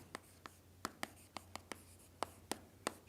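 Chalk taps and scrapes on a board during a doctoral lecture on numerical methods, in short separate strokes at an irregular pace, faint against a low room hum.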